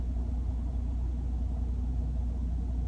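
A truck passing on a road, heard as a steady low rumble of engine and tyres that holds at an even level throughout, with no speech.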